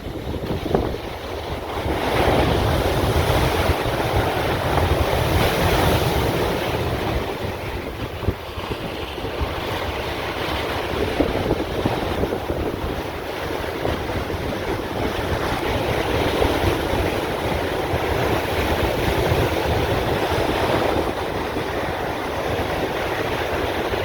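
Ocean waves and surf roll steadily onto a beach as the tide comes in, a continuous broad roar mixed with strong wind buffeting the microphone, with no speech.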